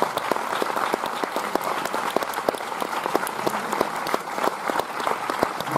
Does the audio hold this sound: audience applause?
yes